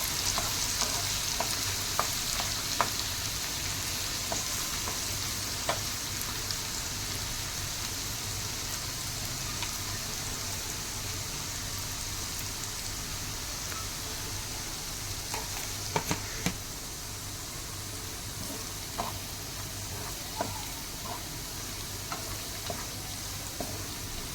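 Schezwan chutney ingredients being sautéed in a pan, a steady close sizzle and fry with occasional spoon scrapes and taps running throughout without pause.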